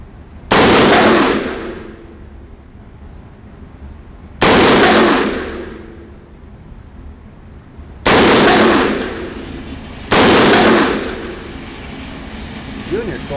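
Four loud, close gunshots from a CZ Bren 2 5.56x45mm rifle fitted with a silencer at a 25-yard range, each a sharp crack with a short fading tail, fired a few seconds apart.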